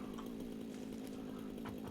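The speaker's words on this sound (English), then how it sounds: "Why do I hear a chainsaw right there?" A chainsaw in the video game Satisfactory drones steadily and loudly throughout, an unbroken buzzing engine whine with no pauses and no talk.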